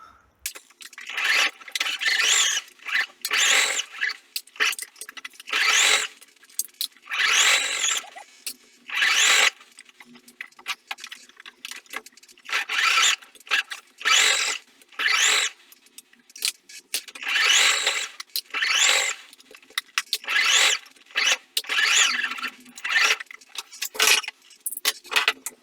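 A sewing machine stitches the seam of a hooded lion towel in repeated bursts of fast, buzzing run, each lasting a second or two, separated by short pauses, close and fairly loud with no talking.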